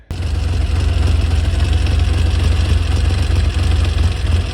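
A Triumph Trident T150V motorcycle engine idling steadily as it warms up, a loud, close, even low rumble that carries on without a break after a brief start, with no voices.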